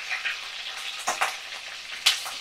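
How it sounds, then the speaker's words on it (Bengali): Prawns frying in a pan with a steady close sizzle, broken by a few louder crackling bursts and spits of hot oil, with no talking. "সুন্দর করে লাল লাল করে আমি চিংড়ি মাছগুলোকে ভাজা করে নিচ্ছি"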